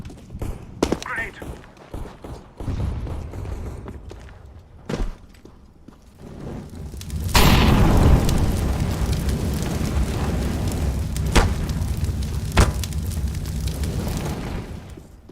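In Counter-Strike, scattered gunshots crack sharply, then a grenade goes off with a heavy boom and a long rumbling tail, with more shots popping afterward and players talking over the action.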